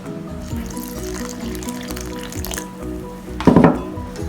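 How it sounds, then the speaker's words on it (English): Flour and water are stirred slowly into dough for pan mee noodles, giving soft wet scraping and mixing sounds with a louder squelchy burst near the end, close and unaccompanied by talking. "So keep mixing them slowly."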